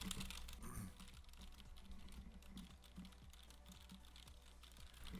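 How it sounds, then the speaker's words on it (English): Computer keyboard typing picked up through a HyperX Cloud Orbit S headset microphone: a steady stream of soft, faint clicks at an even pace, heard alone with no talking. "let's go ahead and do the keyboard clicks with this microphone"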